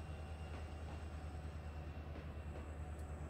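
A train in the Trainz 22 game runs on rails around a harbor switching yard, a steady low rumble of wheels and cars with faint clacks and a light squeal, quiet and continuous with no talk.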